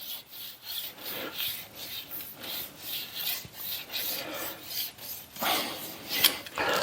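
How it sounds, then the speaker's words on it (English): A hand file rasps along the bottom edge of thin milled material to remove burrs, roughly a dozen rhythmic strokes that are close, fairly quiet and steady, each stroke followed by a short pause, with no speech. "take a file here and just hit the bottom and make sure there's no big burrs"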